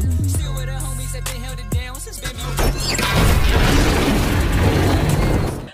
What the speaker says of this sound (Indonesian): Zama meledakkan tabung gas yang menumbangkan beberapa penjaga kuil ini